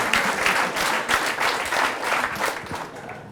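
An audience at a French oyster-shucking competition applauds steadily, a close, dense patter of clapping lasting a few seconds.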